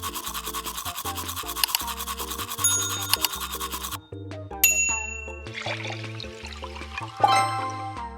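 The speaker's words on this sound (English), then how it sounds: "First, let's brush her teeth." Cartoon toothbrushing effects from a kids' video game in which a baby panda's teeth get brushed. Repeated brisk scrubbing strokes sit over bouncy background music, followed by bright dings and sparkly chimes.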